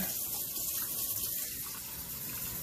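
Water pouring steadily from a kitchen tap, a continuous even hiss and gush lasting the whole moment without pause.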